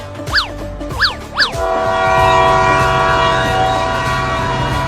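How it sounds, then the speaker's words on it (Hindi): Train whistle blowing three short sharp toots, followed by a steady rumbling drone of the train, loud and close. "अरे ट्रेन तो सीटी मार रही है।"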